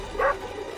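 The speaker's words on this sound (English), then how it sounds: "Boimler is accompanied by Tendi and her genetically engineered creation called The Dog, who's definitely a normal dog." A dog in the animated series Star Trek: Lower Decks, a genetically engineered creature, gives a single short bark, faint and brief, with little else around it.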